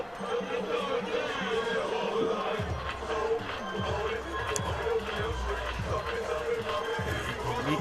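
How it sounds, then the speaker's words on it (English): Crowd cheering and roaring at a high school football game in a stadium, a dense, steady wall of noise with chatter and shouts throughout, under play-by-play commentary. "The music's up, the crowd's up."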